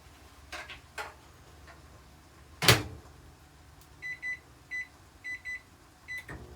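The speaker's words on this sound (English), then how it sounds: "now I'm going to put them back in the microwave for another 3 minutes on high too" A sharp clunk like a microwave door shutting, then a series of short electronic beeps over a faint, steady microwave oven hum.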